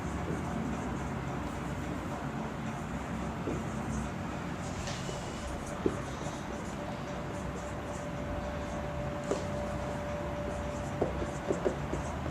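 Chalk or marker writing on a classroom board during a chemistry lesson, faint scratchy strokes over a steady background hiss with a few small taps.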